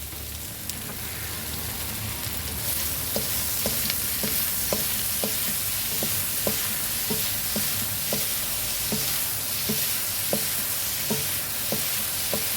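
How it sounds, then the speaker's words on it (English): Green beans and onions stir-frying with sugar in a hot pan, a constant loud sizzle broken by regular scraping stirs that repeat roughly every half second, with no voices. "I'm going to go ahead on and add some sugar so I can start caramelizing the green beans and onions"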